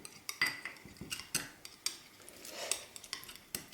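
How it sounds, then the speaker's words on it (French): A knife mixes acrylic paint with medium in a clicking, scraping pattern of sharp taps and short scrapes against a surface, close and fairly quiet, irregular over a few seconds. "je prends, par exemple, un couteau pour mélanger"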